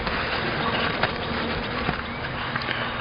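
A steady, dense buzz of honeybees swarming around an open beehive during a spring hive inspection, continuous and close throughout with no talking.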